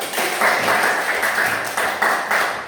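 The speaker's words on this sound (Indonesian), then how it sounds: "Oke, tepuk tangan." A classroom of children claps hands together in quick rhythmic bursts, a dense, bright patter that swells and dips several times over a few seconds.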